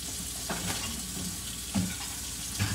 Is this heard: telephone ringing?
no